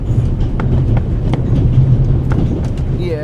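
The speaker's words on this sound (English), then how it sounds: "The noise on this train is driving me crazy." A steady low rumble of the Orient Express train carriage runs throughout, with faint rhythmic clicks and creaks, close and continuous, and a few soft incidental sounds near the end.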